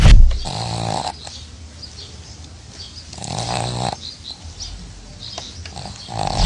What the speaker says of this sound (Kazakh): Бул ит адамдай эле коңурук тартат экен.